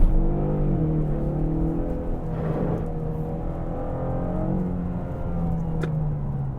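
A 2024 Ford Mustang EcoBoost engine blips its revs on a downshift, a steady close engine drone with a brief rise in the middle and no speech over it.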